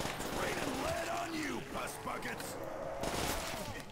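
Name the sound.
gunfire from armed enemies in a Call of Duty zombies video game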